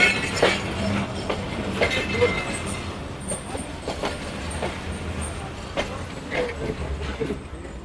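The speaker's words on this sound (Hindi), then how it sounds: "ये जो अभी ट्रेन आई है ना, हज़ारा एक्सप्रेस आई है।" The Hazara Express passenger train rolls into Daharki railway station, Pakistan, with rhythmic clicking of wheels over rail joints, faint squeals and a broad rumble, moderately distant, amid station ambience.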